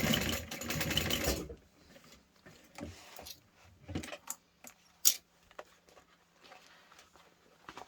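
Heavy-duty stitching on a Guardian anti-theft backpack from Linds Handmade Designs: a loud, dense burst of machine running at the start, then scattered clicks, taps and short mechanical knocks as the work is handled.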